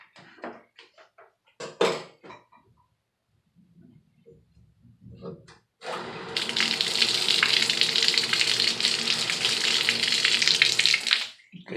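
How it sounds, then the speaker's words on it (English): Tap water gushes steadily onto a hot copper pipe at a spout after desoldering, a broad hissing splash that starts abruptly and runs continuously for several seconds after some brief knocks and handling noises. "Now you can even open the water."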